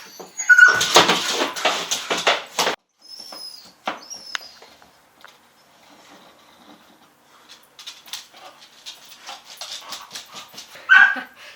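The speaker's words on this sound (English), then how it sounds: "Don't mind my dog, he's playing with a rock right now." A dog playing with a rock whimpers and yips in bursts, loud near the start, then quieter scuffling and fainter whines before a final sharp yelp.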